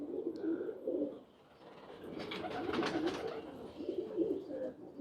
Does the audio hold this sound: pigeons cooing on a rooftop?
yes